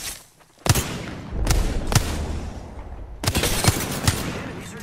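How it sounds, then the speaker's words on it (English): Gunfire in Apex Legends, with bursts of rapid shots and single cracks in repeated volleys over a steady battle din, loud and close. "The enemies are shooting at me."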